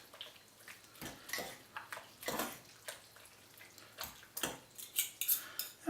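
Cochinita pibil is being stirred through its sauce in a pan, giving quiet, irregular scraping and clinking of a utensil against the pan with soft wet sounds in between.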